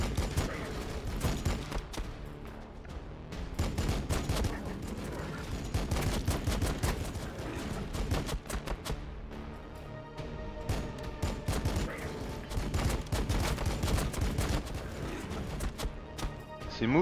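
Pistol attacks ring out in Warhammer 40K Battlesector, a crackling fusillade of many overlapping shots in irregular bursts that runs continuously, loud and dense with brief lulls between volleys.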